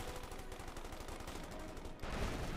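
Thompson submachine guns firing in Company of Heroes 2, paratroopers against grenadiers: dense, rapid automatic bursts that roll on continuously, with a heavier, louder burst of gunfire swelling up near the end.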